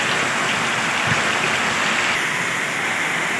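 Torrential Ashadh monsoon rain soaks a flooded school ground and soybean fields in Gujarat, a loud, constant rushing patter broken by one brief low thud, with no talking.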